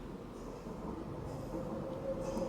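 Low rumbling train noise at a station, a steady broadband drone with a faint squealing tone rising near the end, fairly loud and continuous with no voices.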